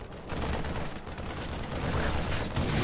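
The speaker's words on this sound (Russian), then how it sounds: "Ух ты, еще бабахнула мина" A widow mine detonates in a StarCraft Protoss-versus-Terran match, its blast lost in a dense, continuous din of battle gunfire and explosions that stays loud throughout.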